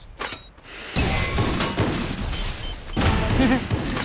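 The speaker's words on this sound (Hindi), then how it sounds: "हाय लैंड बम से मर गया ये" Land mine blast in the Free Fire shooter game, a sudden broadband burst after a brief lull, followed by a sustained rumbling roar with crackling debris and a second swell.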